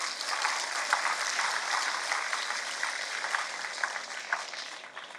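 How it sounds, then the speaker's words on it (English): A hall audience at the AIIMS Mangalagiri Foundation Day claps for newly chosen students, with dense, continuous applause that stays fairly soft and even from start to finish. "A big round of applause for you"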